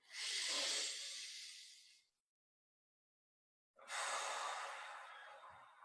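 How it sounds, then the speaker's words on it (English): Two long, slow breaths in a breathing exercise, each a soft airy hiss close by, separated by a pause of silence. "One more deep inhale here."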